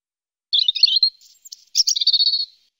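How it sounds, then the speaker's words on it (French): Two bright, high-pitched bursts of robin chirping and twittering, close and clear, separated by a short pause, with no talking, in a children's cartoon. "le rouge-gorge fit comprendre qu'il avait drôlement faim"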